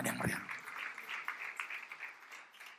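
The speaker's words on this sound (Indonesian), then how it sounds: "Tepuk tangan yang meriah." A church congregation applauding during a sermon, a sustained patter of many hands clapping at a moderate distance, fairly faint, after a brief thump at the start.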